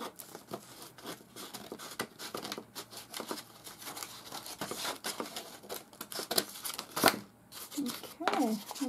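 Scissors cut through paper and cardboard from cat boxes, giving repeated snipping, rustling and crinkling sounds close by, with handling noise between cuts and a louder rustle near the end.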